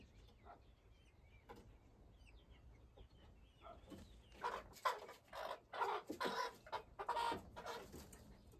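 Backyard hens near their nesting box in a coop cluck a few times quietly, then break into a busier run of loud, close clucking and squawks.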